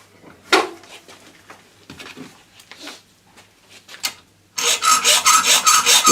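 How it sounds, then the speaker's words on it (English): A nail is sawn by hand, short irregular rasping strokes at first, then a steady run of loud, rhythmic back-and-forth saw strokes close by in a quiet workshop. "First things first, let's saw those off."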